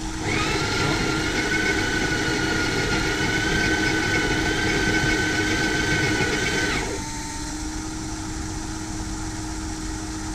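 Sage Oracle espresso machine grinding coffee beans, a steady loud whirring drone that runs for about seven seconds, then stops abruptly, leaving a quieter low machine hum.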